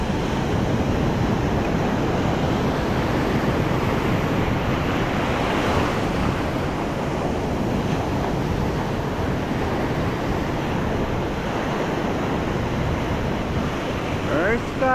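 Ocean waves wash onto the shore at high tide, a continuous loud roar of surf mixed with gusting wind buffeting the microphone.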